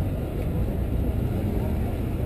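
Road traffic on packed roads rumbles as a dense, low, continuous roar of passing cars, steady and close with no distinct individual vehicles standing out.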